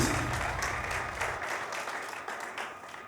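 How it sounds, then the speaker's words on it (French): A studio audience applauds steadily, a dense, even patter of many hands that continues at moderate volume throughout. "ça mérite encore des applaudissements"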